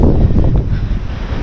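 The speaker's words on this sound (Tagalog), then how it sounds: "Grabe yung hangin, lakas." Strong wind buffeting the microphone while cycling downhill, a loud, low, continuous rumble and roar with gusty fluctuations, close and overwhelming.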